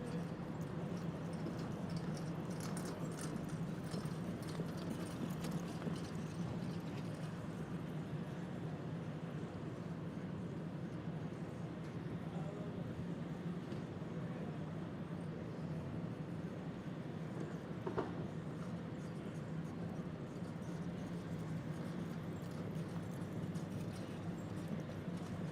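A pony's hooves clip-clop steadily in a dressage driving test at an FEI Para Driving World Championship, with a faint rhythmic beat under a continuous outdoor arena murmur and distant crowd noise.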